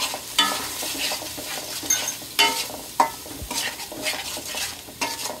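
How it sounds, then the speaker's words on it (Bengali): Biryani spice masala is stirred in a frying pan, sizzling steadily up close while a spoon scrapes and knocks against the pan in irregular strokes, with no voices. "এখন আবার একটু ভালো মতো নাড়িয়ে দিব।"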